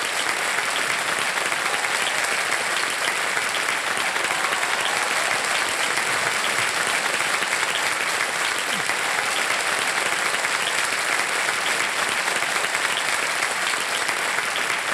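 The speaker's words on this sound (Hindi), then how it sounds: "बहुत जोर से आपके शायद माता पिता थे, उन्होंने ताली बजाई थी" Steady, dense applause from the studio audience at the KBC quiz show, loud and continuous throughout without pause, with no voices standing out.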